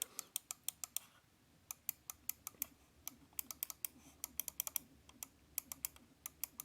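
Crisp, rapid clicks from the buttons of a Logitech G305 wireless gaming mouse, pressed repeatedly across different spots of the button in quick bursts. The clicks sound close and sharp against a quiet background, with no speech.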